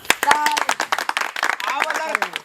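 Sharp, irregular hand claps ring out amid lively overlapping chatter, several people talking and calling out nearby.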